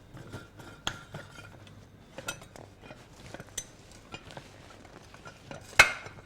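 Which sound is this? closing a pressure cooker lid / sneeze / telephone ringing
closing a pressure cooker lid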